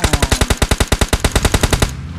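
A rapid burst of automatic gunfire in the video game PUBG Mobile, about twenty evenly spaced shots fired loud and close, cutting off abruptly at the end.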